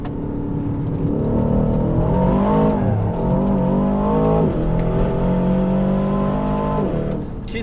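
An Aston Martin DBX 707 SUV is driven hard on a track while drifting and braking. Its engine drones loud and close throughout, rising and falling in pitch with a few sharp shifts in revs.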